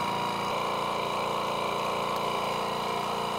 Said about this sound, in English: Okay, hit the vac seal.